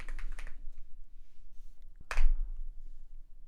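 A few quick clicks on a computer keyboard, close and sharp, with a brief cluster at the start and one louder tap near the middle amid quiet.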